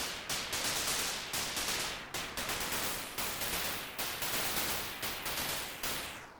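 Broadband white noise in Ableton with an LFO sweeping its filter frequency back and forth, heard as a steady hiss that swells and dips in repeated sawtooth-like surges, loud and alone.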